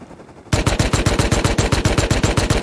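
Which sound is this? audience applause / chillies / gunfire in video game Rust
gunfire in video game Rust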